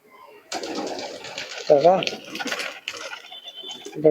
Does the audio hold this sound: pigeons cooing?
yes